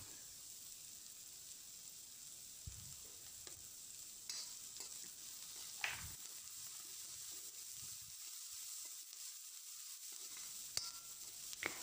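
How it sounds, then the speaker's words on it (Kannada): Onions frying in a pan: a faint, steady hiss with scattered soft stirring clicks and scrapes, quiet and somewhat distant, briefly dropping off near the end, with no voices. "ಈರುಳ್ಳಿ ಚೆನ್ನಾಗಿ ಕಂದು ಬಣ್ಣ ಬರೋವರೆಗೂ ಸ್ವಲ್ಪ ಫ್ರೈ ಮಾಡ್ಕೊಳ್ಳಿ."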